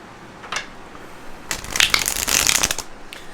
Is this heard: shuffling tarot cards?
yes